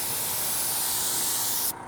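Continuous close hiss of an interior detailing dressing being sprayed inside a car, a steady spray lasting nearly two seconds before cutting off abruptly.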